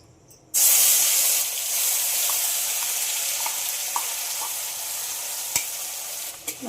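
Ground spice paste hitting hot oil seasoned with cinnamon and cloves, a sudden loud burst of sizzling that settles into a steady hiss with small pops and a couple of utensil clicks.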